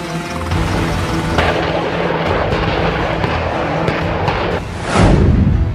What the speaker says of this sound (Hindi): लद्दाख में गरजे हिंदुस्तान के लड़ाकू हेलीकॉप्टर।